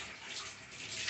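Warm water poured into a rice flour mixture with salt, cumin and cooked beans for a pitha dough, a steady close hissing trickle that continues throughout the short clip without talk.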